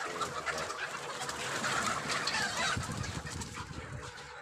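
Golden hen chickens cluck and coo steadily through a dense, continuous flock murmur, close and fairly loud, with no voices.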